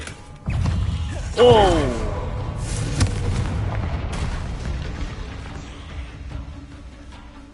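A Confringo blasting spell in Hogwarts Legacy explodes in a sudden, loud boom, followed by a sweeping magical whoosh and a long, rumbling decay, while a voice briefly exclaims.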